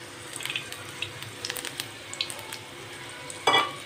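Potato bhaji stuffed with chili frying in very hot oil, a soft steady sizzle with faint crackles and a brief louder burst of spattering near the end.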